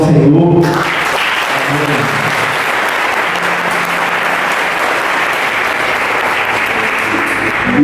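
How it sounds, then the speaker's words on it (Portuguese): A church congregation breaks into sustained, dense applause that fills the space loudly and evenly, holding steady from just after the start to the end with no voices over it. "Por isso, aplaudo o Senhor."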